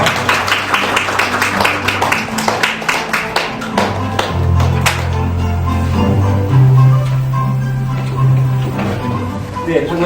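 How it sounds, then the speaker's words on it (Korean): A seminar audience at a disability rights forum gives a guest speaker applause as he comes forward, a burst of sharp clapping that fades within a few seconds into low hum and shuffling. "나오실 때 큰 박수 부탁드리도록 하겠습니다."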